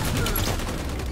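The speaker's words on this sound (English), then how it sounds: "Enemy fire." Enemy gunfire in the shooter Halo 5, a brief dense burst of rapid shots rattling loud and steady for about a second, with no talking over it.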